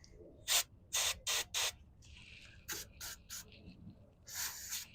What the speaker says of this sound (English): So the brake clean. Clean the area.